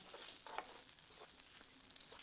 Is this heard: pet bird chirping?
no